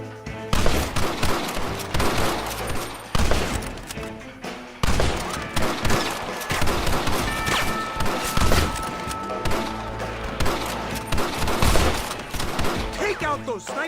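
Sustained gunfight in the western game Red Dead Redemption, with rapid overlapping rifle and pistol shots, sharp cracks and thuds in repeated bursts, close and loud, with shouting voices throughout.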